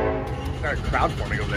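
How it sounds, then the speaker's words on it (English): A train passes in the background near a restaurant in Independence, Missouri, its horn a low sustained tone under someone speaking close by, with street noise throughout. "You can hear the train in the background."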